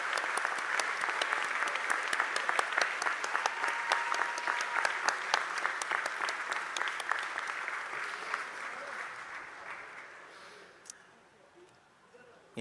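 Audience at a graduation completion ceremony giving a round of applause, dense sustained clapping with a few cheers that gradually thins and fades out near the end, leaving a quiet room.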